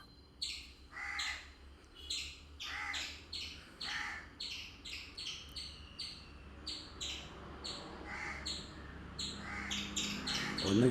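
Birds chirp and caw repeatedly in short bursts, with crow-like calls standing out, at a steady moderate level over a low background rumble, some calls near and some farther off.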